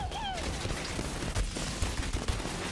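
Enemy gunfire in Borderlands 3, rapid shots crackling over busy game noise with a brief rising whine at the start, fairly close and steady.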